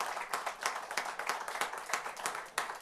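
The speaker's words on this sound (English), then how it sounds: "a round of applause for Nick Conti and for Bob Wade" Quiet, uneven clapping from a small gathering at a St. Patrick's Parade committee art exhibit honors Nick Conti and Bob Wade, with distinct hand claps in a loose rhythm.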